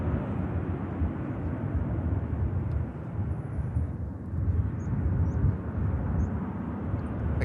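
An airliner at Manchester Airport gives a steady, broad jet roar heard from a distance, holding fairly even throughout.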